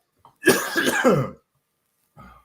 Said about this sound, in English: while you're coughing